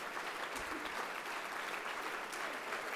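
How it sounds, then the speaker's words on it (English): A dinner crowd gives a round of applause at a military fundraising event, a steady, fairly distant wash of many hands clapping at even intensity throughout. "Let's have a round of applause for Barry."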